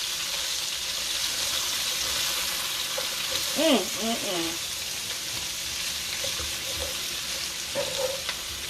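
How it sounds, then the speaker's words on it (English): Cabbage being sautéed in a pan for brown stewed Cornish hen, with a steady sizzling fry throughout and a brief stirring clatter near the middle. "And I'm going to saute my cabbage some."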